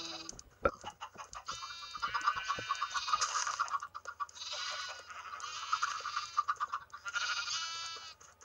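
Sheep bleating in the video game Minecraft, a crowd of spawned sheep giving repeated wavering bleats in bursts that overlap each other, fairly loud and close with no talk.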